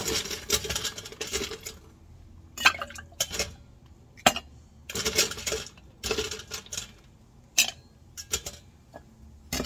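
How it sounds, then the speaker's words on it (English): Ice clattering into a metal cocktail shaker while mixing a cherry lemon drop with vodka, a string of sharp clinks and rattles in several bursts with short pauses, close and fairly loud, no voices. "We're going to go ahead and drop in a little bit of ice."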